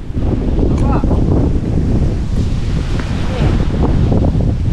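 Loud, continuous wind buffets the microphone with a deep rumbling roar, while voices are faintly heard underneath.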